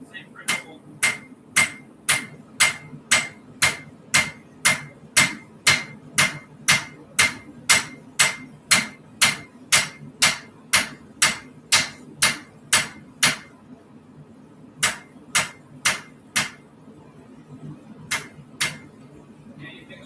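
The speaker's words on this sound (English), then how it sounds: "now you're trying to hammer out that middle" Steady hammer blows ring on an anvil as a horseshoe is forged into a knife, about thirty sharp metallic strikes in an even rhythm with short pauses near the end, close and loud.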